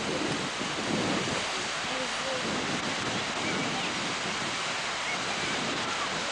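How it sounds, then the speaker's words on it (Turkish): Strong wind buffets the microphone outdoors at a village, a loud, constant broadband rush that never lets up. "Rüzgar çok ya."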